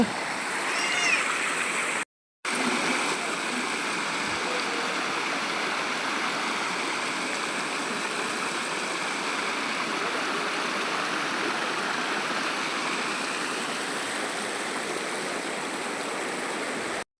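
Water flows along both sides of a path leading to a Hanuman temple near Pollachi, a steady, moderately loud stream murmur that runs continuously apart from a brief dropout early on.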